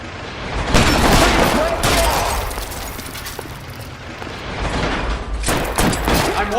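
Sustained gunfire from a shootout in the video game L.A. Noire, dense rapid shots and booms rolling on for several seconds, loud and close, with a brief lull before another heavy burst near the end.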